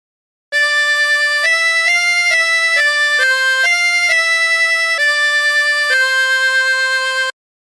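A slow, sustained melody of the hymn Abide with Me on a chromatic harmonica, reedy notes held and changing smoothly, played alone and clearly up close.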